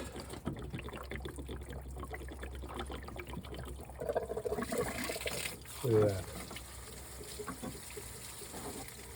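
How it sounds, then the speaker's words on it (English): Water pours and trickles steadily out of a 2002 Chevy Tahoe radiator during a flush, a continuous splashing stream close by, with someone talking over it. "That water's actually coming out of there pretty clean."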